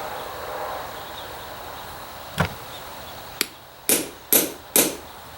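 A hammer taps a rivet into a leather axe cover, landing one lone strike and then four sharp blows in quick succession, close and crisp, with no talking.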